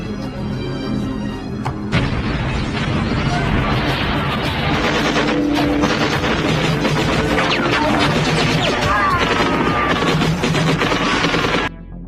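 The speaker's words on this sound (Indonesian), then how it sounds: "sehingga baku tembak sengit, tak dapat lagi dihindari" Dense, sustained gunfire rattles through a fierce shootout in an action film, machine-gun bursts and impacts piling up loud and continuous for about ten seconds before cutting off abruptly.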